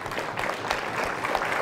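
An audience at a summit of heads of state and government applauds, producing a steady, dense wash of clapping throughout the short moment.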